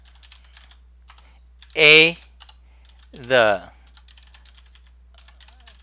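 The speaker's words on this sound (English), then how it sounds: "Okay, so let me type it." Quiet clicking of typing on a computer keyboard runs in the background, light irregular taps that carry on around two brief spoken words.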